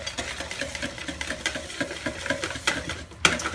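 Flour stirred into eggless apple cake batter in a bowl, a close soft rhythmic stirring and scraping with faint patter and a sharper knock near the end, no voices.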